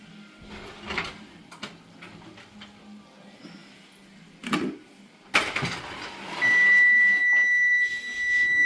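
A kitchen oven timer gives a sustained, high electronic beep near the end, following scattered clunks and handling noises of a kitchen, with no talking.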